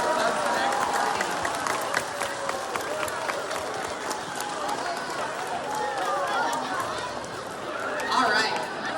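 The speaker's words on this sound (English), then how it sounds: "Let's give a round of applause to everyone who participated in our clubs and activities" A school year-end assembly crowd applauding club and activity participants, dense sustained clapping mixed with chatter and a few voices, steady for several seconds with a slight swell near the end.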